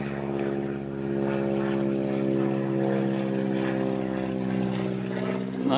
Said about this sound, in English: Nice old biplane.